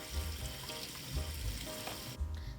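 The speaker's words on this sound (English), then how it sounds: "get your french fries in a strainer, and then you're just gonna wanna wash them up with water so they're not dirty" Running water rinses raw cut french fries held in a strainer, a steady splashing rush that continues throughout and ends with a brief drop-off near the finish.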